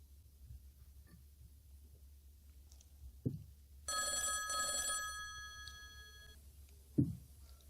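Telephone ringing in a quiet room: a single bright electronic ring lasting about two seconds, framed by a few soft knocks or thumps before and after.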